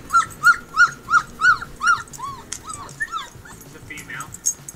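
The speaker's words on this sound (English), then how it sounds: "Let's try husky puppies crying." Husky puppies cry in a run of about seven high, evenly spaced whimpering yelps, followed by softer, irregular whines and yips, close and clear.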